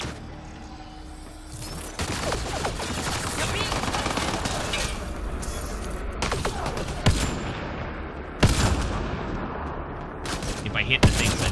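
Gunfire in the Mass Effect Andromeda video game, including sniper rifle shots: a steady wash of battle noise broken by several sharp, louder shot bursts, loud and close throughout.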